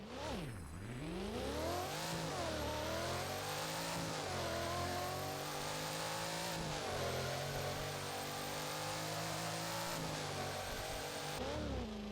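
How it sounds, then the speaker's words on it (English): In the video game Driving Empire, a Hennessy car engine starts and then revs repeatedly, the pitch rising and falling in sweeping surges. The loud engine sound plays alone throughout. "Revving is still the same, but that startup was just a slightly different tone."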